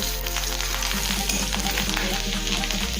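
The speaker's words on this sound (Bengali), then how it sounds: "তেল গরম হয়ে গিয়েছে এখন তেলের মধ্যে দেবো কোচানো রসুন" Crushed garlic frying in hot oil left over from frying eggs in a wok, a loud, dense continuous sizzle with crackling pops, close up and with no voices.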